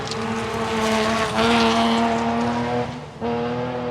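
Rally car on the Mt Grey stage in Ashley Forest, a strong engine roaring and holding pitch, with a brief drop near the end as the driver shifts or lifts before pulling hard again.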